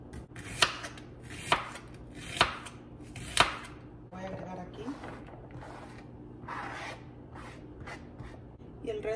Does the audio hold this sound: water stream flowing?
no